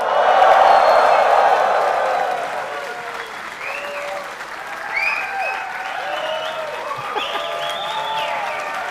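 A large crowd of about 750 in a room claps and cheers, dense applause up front that thins out while whoops and shouted voices rise and fall over the remaining clapping.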